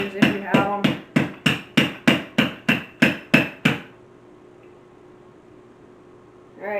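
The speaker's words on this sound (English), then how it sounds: "I'm pounding butter." Butter being pounded for puff pastry with a plain, non-French rolling pin: eleven loud, evenly spaced thuds in quick rhythm, then a quiet pause before a final knock, with no voices.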